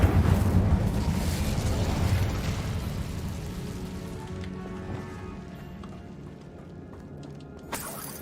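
Incendio fire spell cast in Hogwarts Legacy: a burst of roaring, crackling flame that fades gradually over several seconds, with a small pop near the end.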